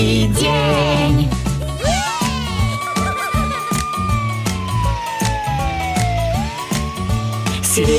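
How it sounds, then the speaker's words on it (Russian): A fire engine siren in a children's song rises and sweeps in a long wailing glide over loud, bouncy music with a steady beat. "Сирена у пожарки виу-виу целый"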